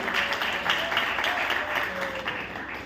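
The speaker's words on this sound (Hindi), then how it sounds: "एक बार मैं चाहूंगा जोरदार ताली बजाकर सभी का एक साथ स्वागत किया जाए।" Audience at a gathering applauding loudly in welcome, a dense, steady wash of clapping that holds at full strength throughout.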